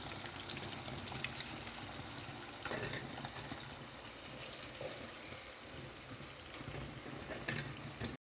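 Tofu frying in a nonstick pan gives a steady, dense crackling sizzle that runs continuously at moderate level, with a few brief louder spatters near the end.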